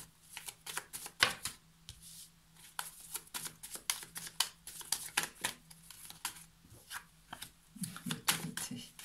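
Tarot and oracle cards being shuffled and drawn by hand, a close, quiet run of rapid riffling slaps and flicks in irregular bursts throughout, with no talking.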